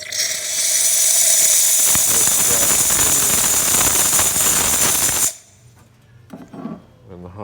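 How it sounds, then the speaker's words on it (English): The steam wand of a Pasquini Livia 90 espresso machine lets out a loud, close, steady hiss for about five seconds, then cuts off abruptly. Faint clicks and handling noises follow in the quiet. "Let's go ahead and test the steam."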